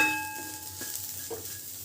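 Spices with salt fry in oil for a papdi (field bean) curry, giving a faint, soft sizzle with a few light stirring scrapes, steady and quiet under a faint tonal hum.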